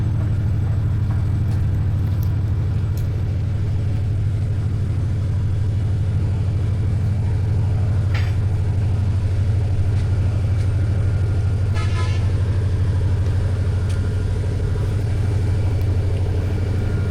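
Heavy road traffic on the Dhaka-Sylhet highway rumbles constantly, with a few short car horn toots sounding in the middle distance over the drone.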